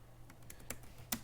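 Soft keystrokes clatter on a computer keyboard during Python coding. Several quiet, irregular taps sound close by over a low hum.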